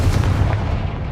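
A single heavy, booming Confringo blast from Hogwarts Legacy rolls out in a low, dense rumble that fades over about a second.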